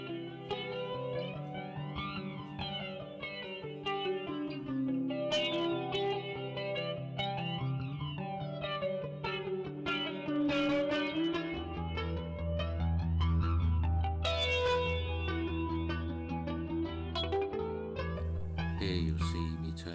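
Clean electric guitar tone played through a Line 6 Pod 2.0 amp modeler, with ringing chords and picked notes shimmering with chorus-like effect and echo, steady and up front for the full stretch without any talking.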